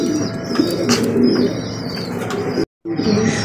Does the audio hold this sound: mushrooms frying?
no